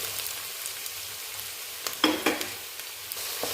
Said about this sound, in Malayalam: അതിലോട്ട് നമുക്ക് സവാള ചേർക്കാം